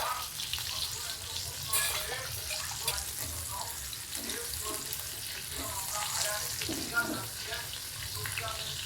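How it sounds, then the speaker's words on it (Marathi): Pomfret and chilapi fish frying in oil: a soft, steady sizzle with watery crackle, fairly faint, and a voice talking intermittently over it. "मासे पण तळायला खूप सोपं आहे."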